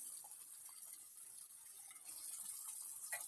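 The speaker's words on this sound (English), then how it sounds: "I'm going to fill this up to 10 ounces with water" Tap water runs steadily into a container, filling it to dilute black-and-white film developer, a continuous close hiss and splash that grows slightly fuller toward the end, with no talking.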